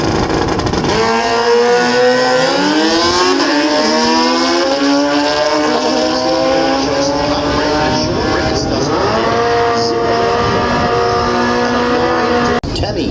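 Drag racing motorcycles launching at Willowbank Raceway, one a red bike: loud, close engines rev and scream upward through rising gear pitches, sustained and roaring, with the announcer's voice mixed in.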